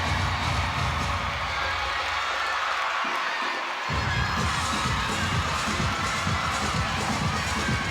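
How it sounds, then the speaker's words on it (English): A gymnastics arena crowd at a college meet, Auburn at Florida, keeps up a continuous distant roar of cheering and shouting, fairly soft and steady, with a brief dip in the middle. "Hear the crowd in the background"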